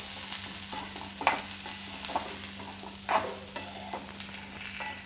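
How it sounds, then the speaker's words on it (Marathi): Okra dry-roasting in a pan: scattered scraping and stirring clatters over a low, steady sizzle, with a constant hum beneath and no talking. "आता आपण भेंडीला पहिल्यांदा भाजून घेऊ"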